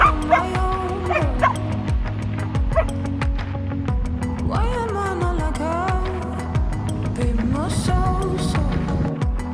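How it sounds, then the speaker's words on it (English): A playful dog at a countryside guesthouse in County Mayo, Ireland, yips, whimpers and gives high barks close by in a quick, excited run, with some faint voices underneath. "what I loved the most was their cute and playful dog"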